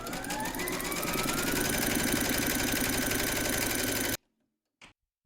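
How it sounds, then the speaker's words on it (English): An embroidery machine stitches a placement outline for batting in a rapid steady whir of needle strokes, close and continuous for about four seconds, then stops abruptly, followed by silence and a short click. "Pop your hoop into your machine and stitch round number 1, and that's going to give you your placement outline for your batting"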